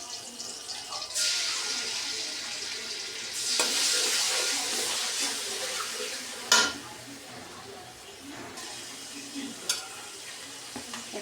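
Onion paste frying in hilsa fish oil topped up with fresh oil, a loud sizzle swelling in bursts as it is stirred, with scraping spoon clatter and sharp knocks against the pan.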